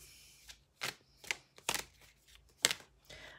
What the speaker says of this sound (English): as I shuffle these cards a little bit more and select the cards